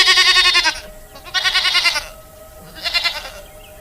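Goats grazing bleat in three loud, wavering calls spaced across a few seconds, close by against a quiet outdoor background.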